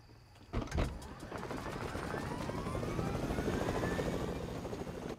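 A helicopter in Fortnite whirs up after a sharp thump, its rotor chop growing steadily louder and holding close, with faint talk barely present beneath.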